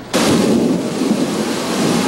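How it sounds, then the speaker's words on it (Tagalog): A thunderstorm over Metro Manila, with a sudden loud clap of thunder breaking into a heavy, sustained roar that rumbles on, mixed with the hiss of heavy rain. "Panay ang dumadagundong na kulog at matatalim na kidlat."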